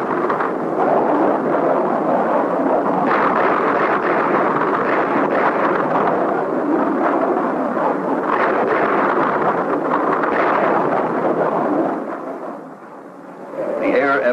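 Aerial bomb payloads exploding at the Battle of Khe Sanh, a sustained rumbling roar of blasts that swells and fades, loud and continuous before dropping away near the end.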